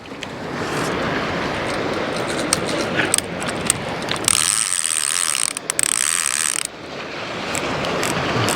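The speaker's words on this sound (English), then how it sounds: "Ratchets." A fishing reel's ratchet clicks rapidly and continuously as line runs out on a sea-angling trip off Tenerife, up close over wind and outdoor noise, with a brief high whine in the middle.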